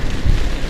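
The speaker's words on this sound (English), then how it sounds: "Rain's here now." Steady rain falls at a windy seaside fishing match, a dense, even hiss mixed with gusty wind buffeting close by, with no pauses.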